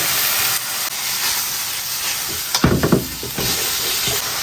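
Eggplant hits a hot wok already holding ginger, garlic, chilies, vinegar, sugar and soy sauce for fish-fragrant eggplant. A loud, steady hiss swells into a sharp crackling burst of frying before settling back into constant sizzle.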